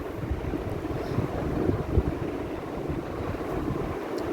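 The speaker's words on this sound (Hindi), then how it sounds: "इस तरह बॉयल आ रहा है ये" Milk mixture for matka kulfi boiling in a pot, a steady low bubbling rumble with broadband hiss that holds evenly throughout, fairly close and without speech.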